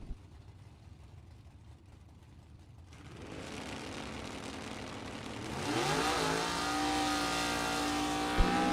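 Drag race cars, a Pinto and a 1969 Chevrolet Camaro, launch at a bracket drag racing event, engines idling quietly, then surging into loud rising revs that climb through gears.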